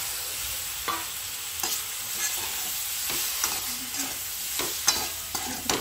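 Cooked pasta tossed with Maggi masala in a frying pan: a soft background sizzle punctuated by repeated spoon or spatula scrapes and knocks at an uneven pace, no voices.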